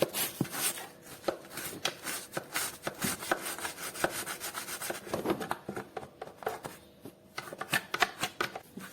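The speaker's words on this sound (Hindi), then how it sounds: "अब ये छोटा वाला ब्रश जो कॉर्नर होते हैं उनको साफ करने के" A small brush scrubs kitchen corners with fast, irregular bristle strokes, close and fairly quiet, rasping in uneven bursts without any talk.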